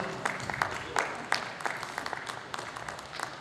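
Scattered hand claps from an audience at a literary gathering, a run of uneven sharp claps spread across the moment, moderately close, with faint murmuring beneath.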